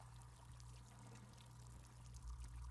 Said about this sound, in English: Let's just let this water out, because I don't think this counted for anything.